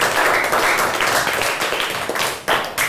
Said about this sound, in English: Give a big clap to him.